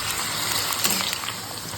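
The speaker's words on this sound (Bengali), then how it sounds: "আমি ডুমো করে কেটে রাখা আলুগুলো আমি গরম তেলে দিয়ে দিলাম এটাকে ভালো করে ভেজে নিতে হবে" Diced potatoes frying in hot mustard oil in a wok give a steady, close, continuous sizzle with a faint bubbling texture and no talk.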